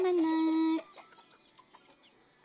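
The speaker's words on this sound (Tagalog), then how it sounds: "Ang aking mga alagang manok." A pet chicken gives a loud, drawn-out squawking call, followed by softer scattered clucks and faint rustling nearby.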